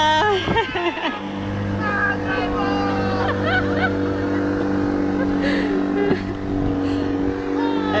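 A passing motorboat's engine drones steadily nearby, with a honk-like call and voices briefly heard over the hum.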